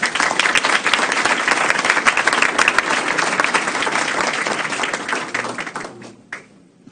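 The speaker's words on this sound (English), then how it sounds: "So a round of applause for him as well" Audience applause at a regular business meeting honoring an orchestra conductor: a sustained, dense burst of many hands clapping that holds steady, then thins and fades out over the last second.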